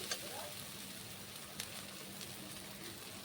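Grated ginger and garlic fry in a pan for Bengali chicken kosha, giving a faint, steady sizzling hiss with a few small pops throughout.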